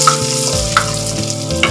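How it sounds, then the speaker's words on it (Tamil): Pepper and cumin dry roasting in a pan for pongal, a steady close crackle with light stirring scrapes throughout, no talking. "இதையும் லைட்டாக ரோஸ்ட் பண்ணிக்கோங்க."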